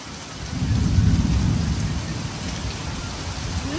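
A pop-up thunderstorm with heavy rain during a fishing trip: a deep, rolling thunder rumble swells early and slowly subsides beneath a steady, dense hiss of rain.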